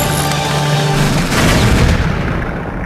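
A loud, booming explosion in the video game Crazy Chicken, with heavy low rumble, swelling in the middle and fading out; rapid gunfire-like crackle runs through the mix.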